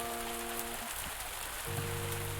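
Rain patters softly in a cozy farming and village life game, a faint steady hiss of drops running under sustained musical tones that drop out briefly mid-clip and then return.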